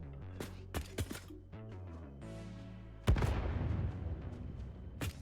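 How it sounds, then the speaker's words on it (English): An explosion in the factory-building video game Satisfactory: a sudden heavy blast followed by a rumbling, crackling decay, preceded by scattered thumps and clanks over game ambience. "I heard another explosion."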